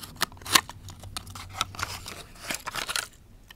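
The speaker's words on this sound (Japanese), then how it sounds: "それでは開封していきたいと思います" A Tomica Nissan Skyline GTR toy car, an older Japanese-made model, comes out of its package with a series of sharp snips, crinkles and tearing sounds, irregular and close, with no talk.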